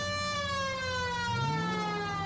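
Police siren in a PS4 driving game, a steady electronic wail with many sustained tones rising slightly in pitch, loud and close over low engine rumble.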